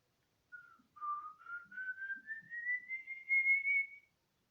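A single rising whistle that starts mid-pitch and climbs steadily higher over about three and a half seconds, clear and close against silence, imitating the eerie whistle of a legendary ghost said to foretell death.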